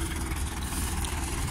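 Fendt tractor engine running during a fertilizer-spreading job, a close, steady low throbbing hum with an even rhythmic pulse and no voices.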